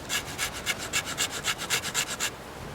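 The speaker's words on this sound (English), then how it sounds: "You can scrape the outside layer off, and then you can use the flat of your knife to make a powder." A knife blade scrapes the outer layer off a dry flax stalk in about a dozen quick, even rasping strokes, close and clear with no talking, then stops.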